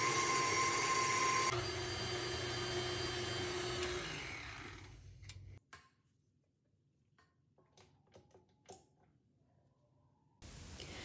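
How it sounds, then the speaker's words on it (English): An electric mixer whirs steadily while blending mascarpone cheese with Madagascar bourbon vanilla, loud and close, then winds down and stops, leaving faint clinks of the bowl before the motor briefly kicks back on. "8 ounces of mascarpone cheese, my double strength Madagascar bourbon pure vanilla from Pampered Chef, teaspoon, and we're gonna mix that."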